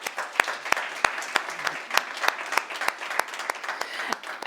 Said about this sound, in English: let's give the organizers a round of applause